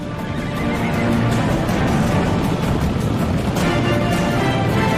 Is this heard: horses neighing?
yes